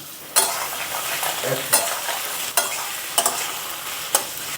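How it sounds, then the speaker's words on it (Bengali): Pieces of ash gourd hit hot oil in a pan and fry with a steady, close sizzle, broken every second or so by a sharper clatter of stirring. "এবার আমি আগে চাল কুমড়োটা তেলের মধ্যে দিয়ে দিচ্ছি"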